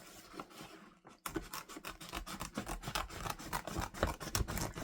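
Scissors trimming fabric on a Christmas sewing project, a close series of rapid snipping and rustling cuts following a brief pause, steady and fairly quiet.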